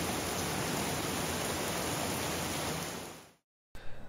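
Rain pours and wind blows in a steady, loud wash of noise outdoors in Australia, then fades out abruptly into silence before a few faint thumps.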